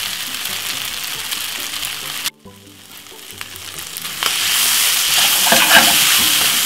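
Sweet chilli fried rice sizzling steadily in a hot pan, loud continuous frying hiss that briefly drops out, then builds back and grows brighter with crackling spatters toward the end.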